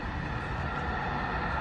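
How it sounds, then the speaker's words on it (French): A train rumbles close by, a steady broadband roar with heavy low-end weight that fills the whole stretch without pause. "Vous inquiétez pas, c'est le train."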